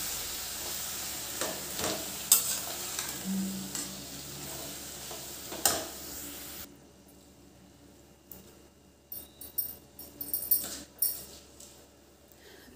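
Dill greens with moong dal being stir-fried in a pan, a soft sizzle with scraping stirs and light clinks for several seconds, then quieter with a few brief spatula strokes.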